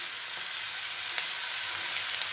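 Small fish frying with potatoes and onion greens in a pan, a dense continuous hiss of hot oil with two brief faint clinks and no voices.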